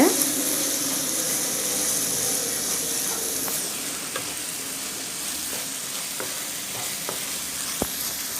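Paneer gravy with green chillies fries in a pan, a constant close sizzle and steamy hiss, with light scraping and occasional clinks of a spoon as the mixture is stirred.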